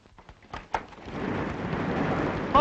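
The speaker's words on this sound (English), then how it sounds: "I wonder if it stopped raining." Rain and thunder outside: a few soft knocks, then a low thunder rumble building into steady rain that grows louder toward the end.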